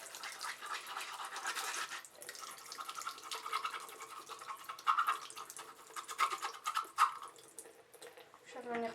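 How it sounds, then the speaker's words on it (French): Water runs and drips as a makeup brush is rinsed on a Sigma brush cleaning glove at a sink, a steady soft trickle with light splashes and brief scrubbing, close and fairly quiet, ending with a rising squeak. "Hop, on va rincer."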